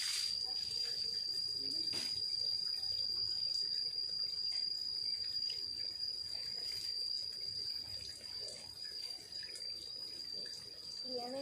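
Water runs steadily from an opened tap on a household water tank, a gentle continuous splash at moderate distance, with a faint high tone throughout and a brief knock early on.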